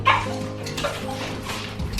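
Dogs let out of a house bark and whimper close by in short yips and whines over a couple of seconds.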